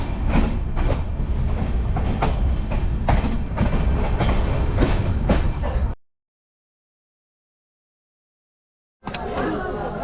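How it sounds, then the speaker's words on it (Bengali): The Sealdah–Banaras Amrit Bharat Express pulls out of Madhupur station, a loud, close rumble with rhythmic wheel clatter from inside the carriage that cuts to silence for about three seconds, then resumes. "এখন ট্রেন ছাড়ছে।"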